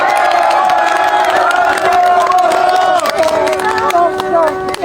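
A large outdoor crowd at a Korean National University of Arts student declaration rally opposing the Yoon impeachment cheers and applauds loudly and steadily, with shouts and babble blending into a dense, sustained roar.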